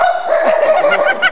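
A voice imitating dogs with a high, strained, continuous yelping howl, loud and close for just over a second.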